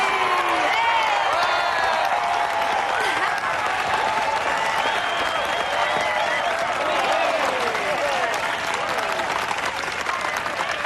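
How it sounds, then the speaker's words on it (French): A festival audience applauds in a dense, sustained roar of clapping mixed with scattered cheers and crowd voices, steady and fairly loud throughout. "Mesdames et messieurs, à vous de jouer, applaudissez de toutes vos forces"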